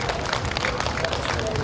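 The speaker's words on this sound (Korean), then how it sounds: "여러분 큰 박수로 맞이해 주시기 바랍니다" An indoor audience applauds at a Korean music show, a dense, steady wash of clapping heard at close range with faint crowd noise mixed in.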